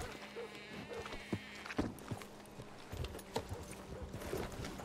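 Horse hooves clip-clop at a loose, uneven pace in the Red Dead game world, faint and mid-distance over a low ambient hum with buzzing insects.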